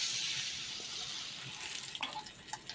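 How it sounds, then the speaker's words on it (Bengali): Pieces of rohu fish fry in hot oil in a wok, giving a steady soft hiss of sizzling with a few light crackles and spatters toward the end, quiet and without talk. "মাছ ভালো করে উল্টে পাল্টে ভেজে নিতে হবে"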